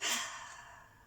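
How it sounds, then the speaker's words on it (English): One deep breath pushed out through the mouth during a gentle yoga session, a soft airy sigh that starts strong and fades over about a second, close and alone. "a couple of deep breaths out of the mouth"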